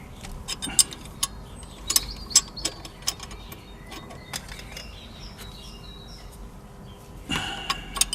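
A ratchet clicks in short uneven bursts while tightening the gearbox oil plug on a VW Golf Mk5 1.9 TDI, close and fairly quiet over a low background hum.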